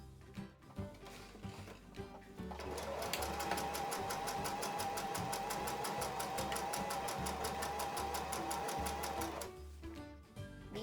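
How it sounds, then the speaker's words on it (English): A sewing machine stitches closed a small hole in a tote bag lining, whirring in a fast, even run for about seven seconds, with quieter handling sounds before and after. "I need to remind you to sew this little hole."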